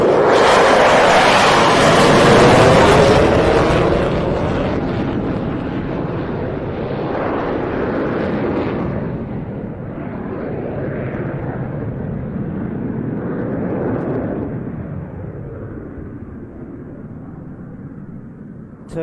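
A Solo Turk F-16 fighter jet roars past at an airshow, loud at first and then fading into a long, broad rumble as it moves away, with wind buffeting the microphone.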